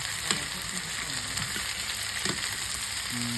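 A pickle mixture with turmeric and chili frying in a pan, giving a steady close sizzle with a few soft stirring knocks, brief and without talk.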